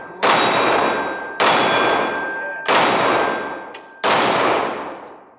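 Four Glock 19X pistol shots fired at a target at a slow, even pace. Each one is a loud, sharp crack that rings out and decays before the next, with no one speaking.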